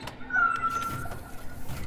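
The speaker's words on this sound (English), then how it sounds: "Cat." A cat meows once in the video game Moons of Madness, a drawn-out tonal cry near the start over a low ambient game drone, with no talking.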